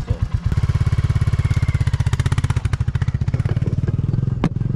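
A motorcycle engine revs up steadily as the rider opens the throttle, a loud, close, rapid putter that rises in pace and holds, with a brief clack near the end.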